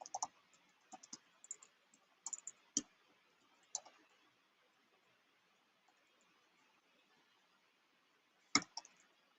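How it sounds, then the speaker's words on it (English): Keys tapped on a computer keyboard to enter a check-in code, faint scattered clicks in short clusters separated by long near-silent gaps, with one sharper burst of taps near the end. "I can type that out for you."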